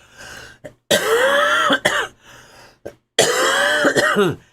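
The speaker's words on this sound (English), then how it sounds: "the more I talk, the more I'll cough" Several harsh, close coughs and throat-clearing sounds from a person recovering from COVID, in two main bursts, separated by short silences and brief clicks.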